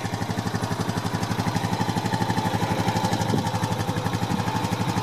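A 2013 Honda Rancher 420 ATV with automatic transmission, power steering and fuel injection runs steadily at idle, a close, even mechanical chug with a rapid regular pulse and no voices.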